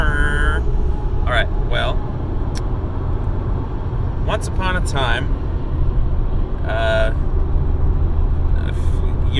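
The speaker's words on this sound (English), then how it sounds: "There's a truck next to me, so it might be loud." A truck idles close by with a low, constant engine rumble throughout, while a person talks over it in short bursts.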